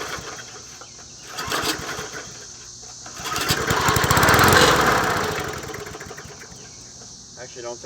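A Murray 20-inch push mower's small engine runs after a starting-fluid spray, its sputtering drone swelling louder mid-clip and then settling, with a person talking over it.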